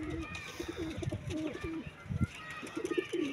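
Pigeons kept by a breeder coo repeatedly in soft, rolling calls, close by and overlapping, with faint rustling in the background.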